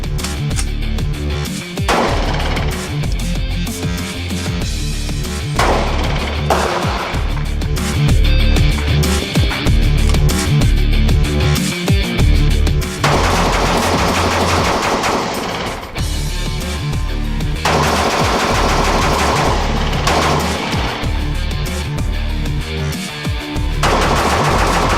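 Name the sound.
Tuason Craig Magnum rifle shooting a watermelon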